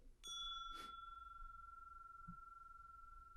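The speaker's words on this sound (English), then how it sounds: "The bell invites me" A single bell struck once on stage during a Macbeth performance, with a bright clang at the start and a long, steady ringing tone that sustains and slowly fades across the quiet stage.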